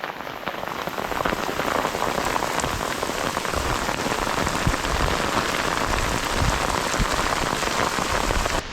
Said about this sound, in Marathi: आत्ता जोर केला या पावसाने